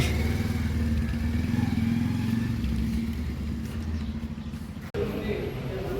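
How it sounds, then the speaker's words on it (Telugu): A 2025 Bajaj Pulsar 150 twin-disc motorcycle, freshly serviced, idles nearby with a steady, even low engine rumble and a faint clatter throughout. "సో ఇదేనండి నేను తీసుకుంటున్న బైక్ పల్సర్ 150 డ్యూయల్ డిస్క్."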